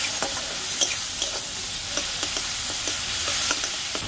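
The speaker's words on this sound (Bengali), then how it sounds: "এবার আমি এটাকে ভালো করে একটু কষিয়ে নেব।" Fish masala, with coriander powder, turmeric and salt, sizzles steadily in a pan while a utensil stirs and scrapes it at irregular intervals, a close, even frying hiss with light clicks and no one speaking.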